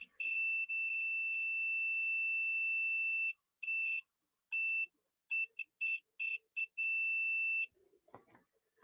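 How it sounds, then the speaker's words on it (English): A handheld network cable tester emits a series of loud, clear electronic beeps while checking one cable end to end, starting with a long steady tone and breaking into shorter irregular bursts before a brief handling noise. "when you're testing one cable from end to end, what it's going to do is going to emit a beep"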